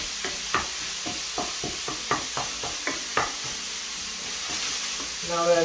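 Minced meat fries in a pan with a steady sizzle under a regular series of sharp scraping and stirring knocks, close up, with a brief louder clatter at the end.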